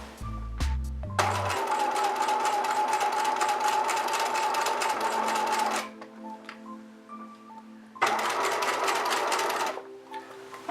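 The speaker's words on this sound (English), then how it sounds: "I just put my foot down on the pedal" A sewing machine stitches across a zipper as the foot pedal is pressed: a few mechanical clunks, then a loud rapid run of stitching, a brief quieter pause with clicks, and a second short burst of sewing. No one speaks.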